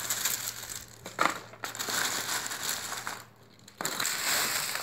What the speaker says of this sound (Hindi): देखिए इसका सूखा हुआ कितना अच्छा आवाज़ आ रहा है, पूरा सूख गया है।